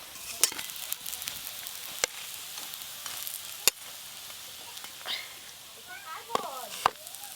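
Poppy seed fritters fry in hot oil with a soft, steady sizzle, broken by a few sharp utensil clicks and faint background voices.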